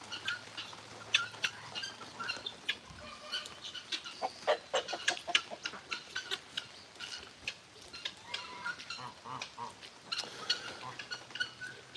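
Chickens clucking in a small chicken-only courtyard at an animal sanctuary, with busy overlapping clucks and scratchy calls close by, plus scattered rustling.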